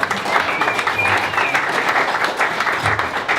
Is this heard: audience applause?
yes